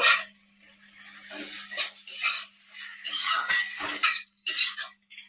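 Prawn curry stirred with a spoon in a metal pan after garam masala and coriander go in, giving irregular scraping clinks and rustles in bursts, moderately close, with no talk.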